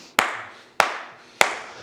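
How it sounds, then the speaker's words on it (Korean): Three sharp single hand claps, evenly spaced about half a second apart, each crisp and close with quiet gaps between. "그럼 내가 박수 쳐드릴게"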